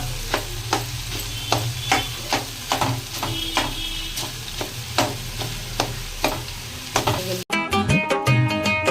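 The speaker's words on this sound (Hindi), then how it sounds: "तो चाउमीन को हमने मसाले में अच्छे से मिक्स कर लिया था।" Boiled chowmein noodles being stir-fried with spices in a pan, with a spatula scraping and knocking in a steady rhythm over a constant sizzle, ending in a denser burst of clattering near the end.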